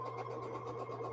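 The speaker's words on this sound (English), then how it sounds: "I just sew it as a 9 patch" A sewing machine runs steadily at close range, stitching nine-patch quilt block rows in a home sewing corner, a continuous even motor hum with no breaks.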